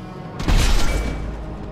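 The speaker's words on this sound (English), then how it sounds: "the regular sniper shots, which is weird. It doesn't have that oomph to it" A single heavy sniper rifle shot in Mass Effect 2, a sharp booming blast with a low rumbling tail that fades over about a second.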